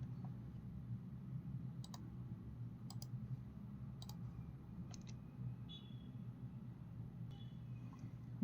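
Mouse clicks on Next through an installer's setup screens, five or six sharp single clicks spaced about a second apart over a steady low computer hum, with no talking.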